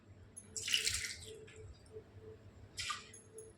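Water poured from a jug into lentils for cooking Hyderabadi dalcha, two short splashing bursts with quiet background between them.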